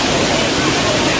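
Rani Dahra waterfall in Chhattisgarh roars as a loud, dense, unbroken rush of falling water heard up close.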